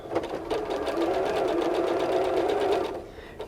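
A sewing machine runs a quarter-inch seam on a Christmas stocking, a fast steady rattling hum for about three seconds that stops abruptly, close and clear with no talking.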